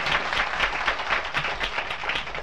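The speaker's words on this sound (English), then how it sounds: "Let's give Bill Monroe a big round of" A festival crowd applauding steadily at a live bluegrass show, dense clapping from many hands filling the room without pause.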